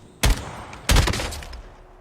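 Gunfire in a competitive shooter game: two loud, sharp bursts, the second followed by a longer rattling spray that tails off, with no talk over it.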